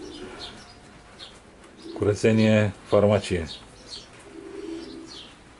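Racing pigeons coo softly in a loft, low murmuring calls heard faintly around a burst of nearby talking.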